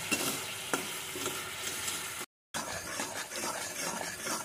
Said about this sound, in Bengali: আস্তে আস্তে নাড়তে থাকবো।